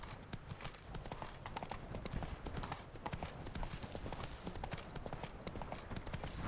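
Hooves of the horse Roach gallop in The Witcher 3, a steady rapid clip-clop rhythm running throughout at moderate volume.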